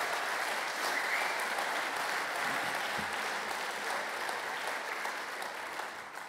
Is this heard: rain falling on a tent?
no